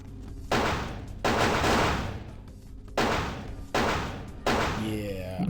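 Gunfire in Vampire: The Masquerade - Bloodlines: five loud, close bursts of rapid shots in quick succession with short gaps between them and brief quieter pauses.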